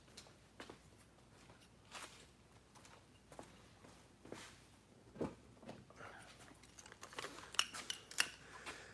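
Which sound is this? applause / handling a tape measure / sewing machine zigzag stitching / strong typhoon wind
handling a tape measure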